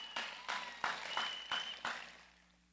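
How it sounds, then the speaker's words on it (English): Applause from a large outdoor crowd at a cabinet swearing-in ceremony, several bursts of clapping swelling and fading over a few seconds before trailing off. "Put your hands together for yourself."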